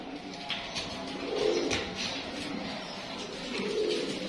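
Teddy pigeons coo softly in low, rounded phrases, two swells a couple of seconds apart, against a faint background hiss.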